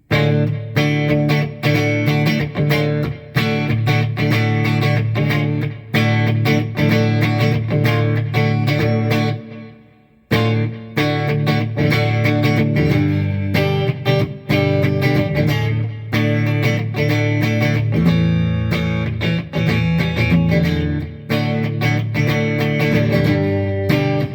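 A G&L G-200 electric guitar played with the pickup toggle in the middle position, a full, sustained run of strummed chords and riffs that drops out briefly midway before picking back up, loud and without talk.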